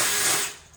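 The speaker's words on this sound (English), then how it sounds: "I've got myself a little wire attachment for my drill." A power drill spins a wire brush attachment against old headliner glue inside a 2003 Land Rover Discovery 2 roof, giving a loud harsh scraping whir that tapers off as the drill slows.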